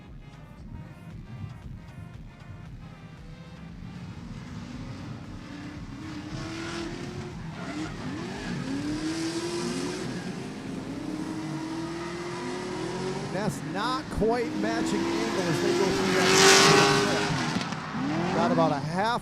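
Two Nissan Z drift cars run in tandem at a Drifting the Plains event, engines revving with rising and falling harmonic sweeps and tire squeal building near the end, heard under continuous commentary.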